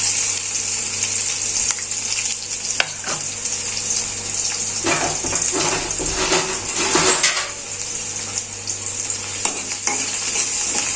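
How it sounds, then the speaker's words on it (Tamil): Cloves, cardamom and onion fry in a pan with a steady, bright sizzle, broken by stirring scrapes and a few clinks of the utensil against the pan, close and continuous with no talk. "மூணு கிராம்பு ஒரு ஏலக்காய் போடுறோம் அப்படியே கருகிறதுக்குள்ள பெரிய வெங்காயம்"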